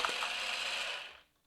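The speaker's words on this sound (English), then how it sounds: "The automatic card shuffler shuffled the deck." A battery-powered automatic card shuffler riffles a deck of cards, giving a steady, close mechanical whirring and fluttering rattle that runs for about a second before stopping abruptly, with no talk.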